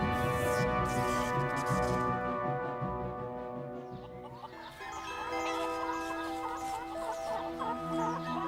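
Chicken clucking in a documentary about food-borne disease, a steady run of close, loud clucks and fowl calls over a harmonic music bed that shifts partway through.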